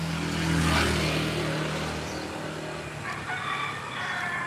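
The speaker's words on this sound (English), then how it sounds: "Plenty of roosters in there." Roosters crow in a Philippine neighborhood, a drawn-out crowing call near the start over steady outdoor background hum and passing traffic, with no speech.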